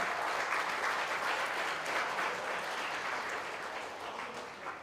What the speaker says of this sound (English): Round of applause for the finalists, Johann, Chua, and Chung.